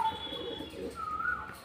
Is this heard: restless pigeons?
yes